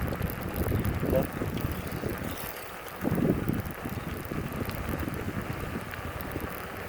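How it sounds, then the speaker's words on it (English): Headwind buffeting the microphone while bicycling along a beach on Sanibel Island, Florida, a continuous rough, gusty rumble with bursts of louder wind noise throughout. "now I'm facing a little bit of headwind, which is making the bicycle a little more enjoyable"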